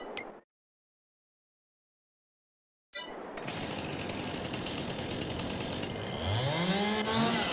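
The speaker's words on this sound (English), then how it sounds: "Let's go ahead and get a chainsaw" A chainsaw in Farming Simulator 22 roars to life after a brief silence, then cuts through a metal post with a steady buzzing snarl that grows louder and rises in pitch toward the end.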